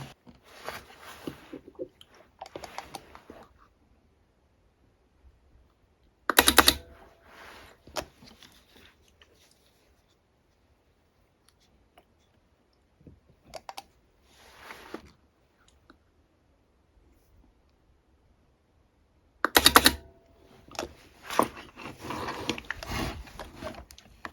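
A DIY mini spot welder for LiPo battery packs fires two loud, sharp zaps spaced well apart, with quieter clicking and handling noises between and a burst of busy mechanical rattle near the end.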